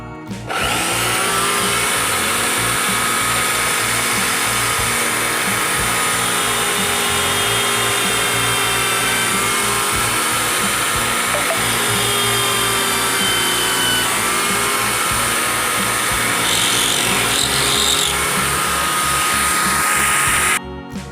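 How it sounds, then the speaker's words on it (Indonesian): A power drill whines continuously and loudly at close range, its pitch wavering slightly as it bores through a coconut shell ring, with no talking. "Selanjutnya kita bor."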